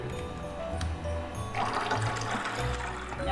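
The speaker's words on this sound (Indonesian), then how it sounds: "Oke, kita tuang aja, aku tuang ke tangki airnya." Water poured into the tank of a Ferratti Ferro espresso machine before descaling, a steady splashing trickle that swells partway through, close and moderately loud.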